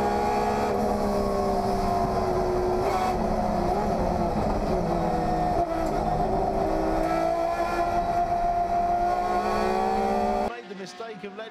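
Mazda 323 race cars battling wheel to wheel at Cascades during a historic saloon car race, engines droning loud and steady with layered revving as several cars pass close, cutting off abruptly near the end.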